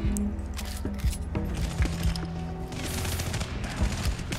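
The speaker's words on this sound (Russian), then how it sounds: "вот стрельба тут вообще в тему" Rapid bursts of gunfire and sharp shots from the video game Agent 01 crackle continuously over a busy game soundscape, with clustered rattling volleys and scattered single reports at close range.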